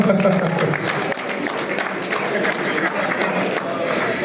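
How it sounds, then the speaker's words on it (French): Audience applause at an awards ceremony for a motor club champion, a steady dense wash of clapping that holds at an even, fairly loud level throughout with voices mixed in. "Guy Bernia et le Motor Club, on l'applaudit bien fort."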